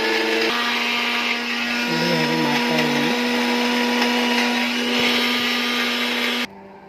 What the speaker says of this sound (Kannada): ಚಮಚೆಯಿಂದ ಸ್ವಲ್ಪ ತಿರುಗಿಸಿ ಮತ್ತೆ ಮಿಕ್ಸಿ ಮಾಡಬೇಕು